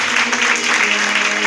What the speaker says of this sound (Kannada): ಚಪ್ಪಾಳೆ ತಟ್ಟಬೇಕು.